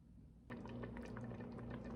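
Tomato jam with spices and sugar simmers in a pot, a steady close bubbling hiss with soft pops that starts abruptly and carries on evenly, no voices.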